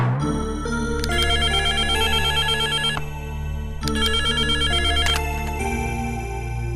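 A telephone rings in a domestic scene from a Tamil family serial: a loud electronic ringtone in two sustained bursts over a steady low backing tone, with no speech.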